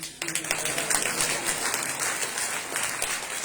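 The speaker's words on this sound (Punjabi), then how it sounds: "ਡਬਲ ਤਾਲੀਆਂ ਕੀ?" A church congregation applauds in a dense, steady burst of many hands that starts abruptly and keeps going for several seconds, loud and filling the room.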